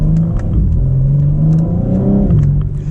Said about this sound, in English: I can show you a little bit of acceleration